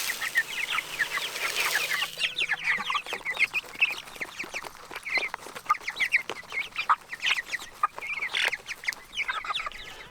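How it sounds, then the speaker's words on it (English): A flock of Cornish Cross chickens eating, clucking and chattering continuously up close, a busy overlapping stream of short calls with no one talking. "Those Cornish cross chickens, they just eat non-stop"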